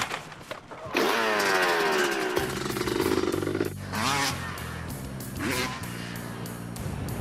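Dirt bike ridden around a slick dry dirt motocross track, its engine revving loud and close and rising and falling with each throttle change and gear shift, with no talk.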